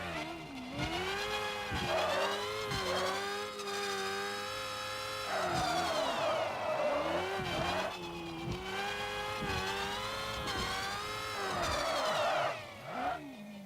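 A drift car in a driving game slides sideways on the handbrake while its engine revs and wails up and down through repeated surges, with whirring and skidding, loud and close throughout.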